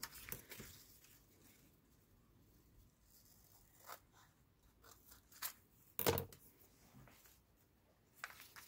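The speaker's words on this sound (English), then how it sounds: "I'm gonna cut the rest." Scissors snip through an old paper atlas page in soft, close cuts with a few sharper crisp snips, set against quiet rustling of paper and no speech.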